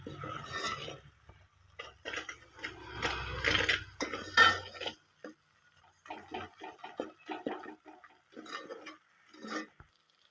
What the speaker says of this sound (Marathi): आणि चांगलं फिरून घ्यायचं याला पण चांगलं शिजून घ्यायचं